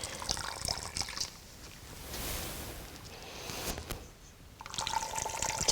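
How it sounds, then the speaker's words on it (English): Water wrung from a hot fomentation towel by twisting, running and trickling into a basin in short bursts, with dripping and splashing between steady flows, close and moderately loud with no talk. "by twisting it, you can get all the water out"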